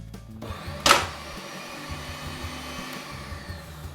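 An electric meat mincer runs while clearing out leftover venison, pushing its blade and mincing plate loose. The motor gives a steady, close whine with a brief louder clunk early on.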